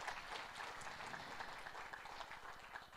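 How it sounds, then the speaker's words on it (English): Scattered applause from an online seminar audience, faint and steady, a thin texture of many claps with no voices over it. "let's give ourselves a big round of applause"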